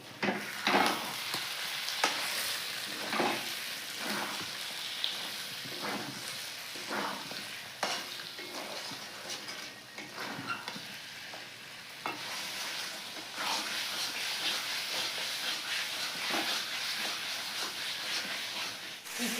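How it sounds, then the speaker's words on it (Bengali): Chicken pieces sizzle in spiced oil in a pan while being stirred for a dhaba-style chicken makhani, with steady frying hiss broken by repeated spoon scrapes, close and fairly loud throughout. "চিকেনটা মশলার সাথে ভালো করে কষানো হয়ে গেছে"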